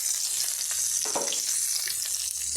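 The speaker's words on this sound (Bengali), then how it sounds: "জিরা তেজপাতা আর কসুরি মেথি আমি ফোড়ন দিয়ে দিচ্ছি" Cumin seeds, bay leaf and dried fenugreek leaves tempering in hot oil for a pointed gourd dish: a loud, continuous hissing sizzle with a few soft bubbling pops, close up.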